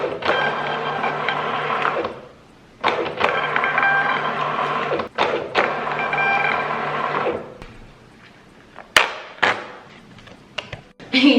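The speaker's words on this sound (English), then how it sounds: "So I'm going to go ahead and print out all the other shipping labels." A desktop printer feeds and prints shipping labels in repeated mechanical runs of whirring and clicking, several bursts separated by short pauses, ending with a few knocks and clunks.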